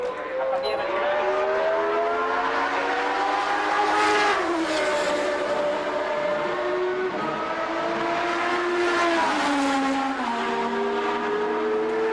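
Formula One race cars at Brands Hatch scream along the straight toward Clearways, high engine notes rising and falling as they shift through gears, one car after another, loud and close throughout.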